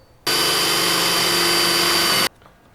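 A power drill boring a 1-inch hole whines at a constant, loud, steady pitch for about two seconds, starting and stopping abruptly, up close with no talking.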